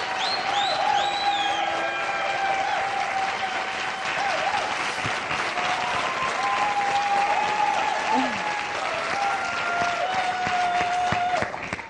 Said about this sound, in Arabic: خلصنا تصفيق كمان من قصي، من مشجعين ومحبين قصي